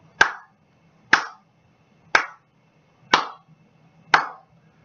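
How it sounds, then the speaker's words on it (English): Five slow, evenly spaced hand claps, each crisp and close, with about a second of near silence between them. "5 slow claps."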